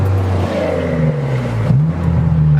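A Honda S2000 drives along a country road, its engine holding a steady, loud drone that climbs slightly in pitch as the car accelerates.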